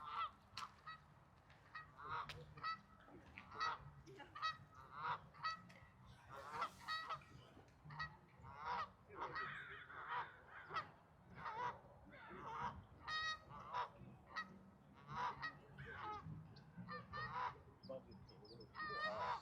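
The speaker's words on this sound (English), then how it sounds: "oh wow, take a look at these geese" A flock of geese honks repeatedly outdoors in loose, overlapping calls, fairly faint and distant-sounding, continuing throughout without talk.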